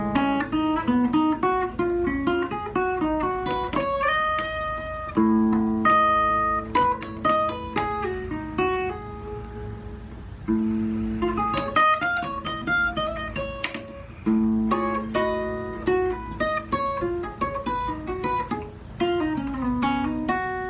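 Guitar played alone and clearly, sounding major triads as harmony over the melodic minor scale, with ringing chord strums and short melodic runs in a steady flow with a few brief pauses.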